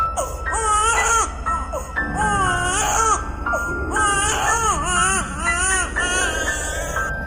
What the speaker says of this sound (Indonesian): suara itu seperti suara tangis bayi yang baru lahir